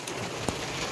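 Steady rain falling over a coffee garden outdoors, a dense even hiss of drops on leaves and ground with one brief louder splash midway, no voices.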